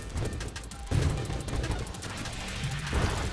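Grenades exploding in the video game Nova Drift, a dense continuous barrage of small blasts and crackle punctuated by a couple of heavier booming thuds.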